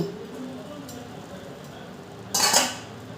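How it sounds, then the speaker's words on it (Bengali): A pot lid lifts off cooking bhuna khichuri with a brief metallic clatter, then the pot stays fairly quiet, with soft kitchen noise before it. "5 মিনিট পর ঢাকনাটা আমি তুলে নেব।"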